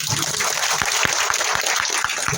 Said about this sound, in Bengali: তাহলে ম্যাগনেসার জন্য চলেন আমরা সবাই একটা করতালি দিই।